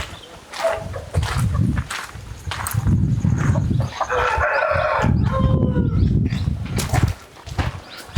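Native country chickens and roosters on a farm in Karnataka, clucking steadily with repeated crows rising over the flock, close and loud throughout.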